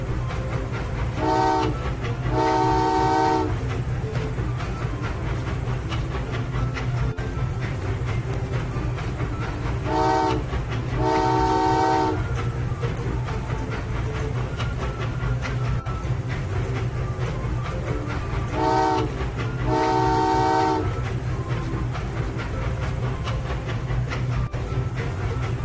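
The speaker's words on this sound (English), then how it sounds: "T for train." A train rumbles steadily past with clacking wheels while its horn blasts in three separate bursts, each a pair of loud blares.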